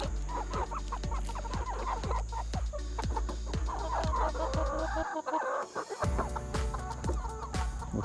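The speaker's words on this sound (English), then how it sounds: "chickens in the way." Chickens cluck repeatedly in a rapid, steady rhythm, close and fairly loud, with a brief pause before the clucking resumes; no one speaks.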